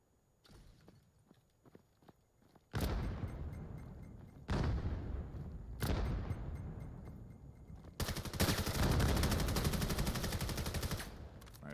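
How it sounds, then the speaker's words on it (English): Rapid gunfire from the VAIL VR shooter during a competitive league match, with dense automatic bursts in several loud sustained volleys and fainter clicks and shots in between. "Nice shots there through that cover from Podbot to catch Orzo out up through the middle."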